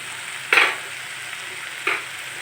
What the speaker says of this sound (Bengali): লো আঁচে আর 5 মিনিট রান্না করে নেব